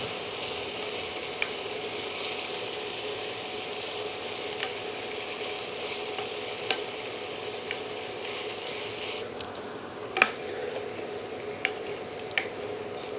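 Onions slowly browning in a pan over heat, stirred with a ladle: a steady, soft frying sizzle runs throughout, with occasional sharper clicks and scrapes from the ladle, and no talking.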